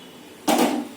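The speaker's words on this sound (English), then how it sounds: "I will open the lid." The lid of a cooking pot of egg fried rice comes off with a single near, brief scrape and a burst of released steam that hisses and fades within about half a second.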